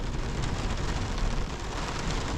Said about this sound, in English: Hear that lightning?